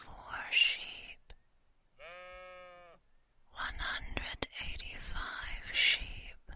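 A soft whispering voice in an intimate binaural setting pauses for one drawn-out, sustained bleat imitated by a human voice, calm and close, then resumes whispering with breathy, hushed sounds.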